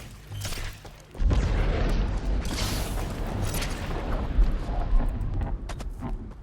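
A turret in the Halo Infinite game booms with heavy low-end blasts, a sudden loud burst followed by sustained rumbling fire and mechanical clatter, close and unbroken by talk.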